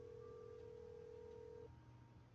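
A telephone in the Nancy Drew video game gives a steady electronic tone that holds for over a second and a half, then cuts off, leaving a quieter low hum.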